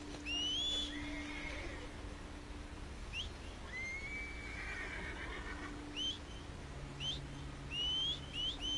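A horse whinnies repeatedly in high, whistling calls over a steady outdoor background, with some faint birdlike chirps mixed in.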